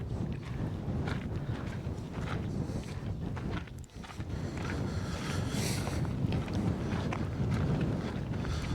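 Strong, steady wind buffets the microphone outdoors on uneven ground in the opal-mining town of Coober Pedy, a loud, continuous rush with only a brief lull in the middle.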